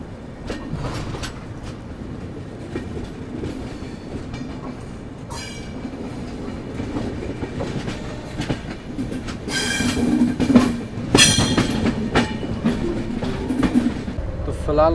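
An Uday AC Double Decker Express rolls along the Chennai–Bangalore main line near Kuppam, heard from inside as a steady rumble with wheel clatter and bursts of high metallic squeal growing louder toward the end.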